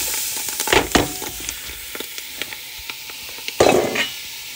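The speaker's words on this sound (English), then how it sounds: "I'm going to add my celery to it now" Chopped celery frying in a dark roux in a pan gives a steady, close sizzle with bursts of crackling and occasional stirring scrapes, heard without voices.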